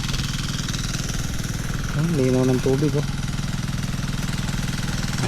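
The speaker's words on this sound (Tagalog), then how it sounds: "Ang 2 makina po umaandar dyan." Two engines powering farm irrigation pumps at night drone steadily with a rapid knocking pulse, continuous and close, while someone speaks briefly over them.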